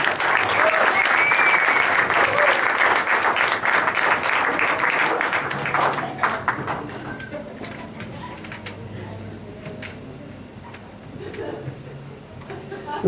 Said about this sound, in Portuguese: Deixem-me ao palco no violino Rita Aragão, uma salva de palmas.